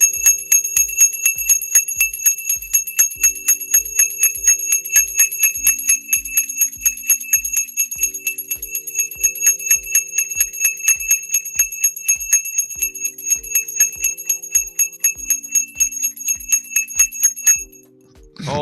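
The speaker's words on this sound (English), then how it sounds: "It's a never-ending bell." A bell rings on and on for about seventeen seconds in a steady, pulsing rhythm of repeated chiming tones, loud and close, before it cuts off abruptly near the end.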